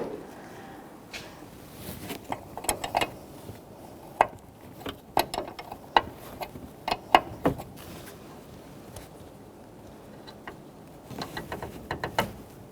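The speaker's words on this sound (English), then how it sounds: "Now we can use a regular wrench, 12 millimeter" A 12 mm wrench works loose a brake master cylinder fitting on a 2007-2017 Jeep Patriot, giving scattered close metallic clicks and ratchety ticks in short bursts against a quiet garage background.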